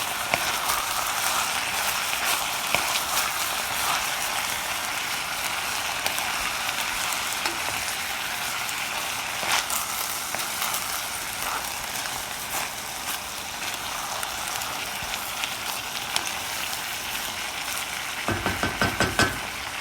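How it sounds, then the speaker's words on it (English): Vegetables and garlic cooking down in a Le Creuset 2-1/4 qt saucepan, a steady bright sizzle and crackle throughout, with a few clinks of stirring near the end. "we're just letting the veggies cook down a bit"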